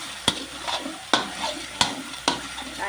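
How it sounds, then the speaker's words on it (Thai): Thai curry paste is stir-fried in a pan for a water spinach and pork curry, with four sharp scraping strokes over a steady sizzle and no voices. "ผัดไป ผัดไปเติมน้ำไปนะคะเพื่อนๆค่ะเพื่อให้แกงมันแห้งนะคะผัดมนานแกงมันจะหอมนะคะ"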